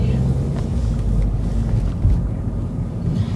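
Skoda Fabia driving over bumpy road, a steady low engine and road rumble with faint thuds from the bumps, heard from inside the cabin, no talking.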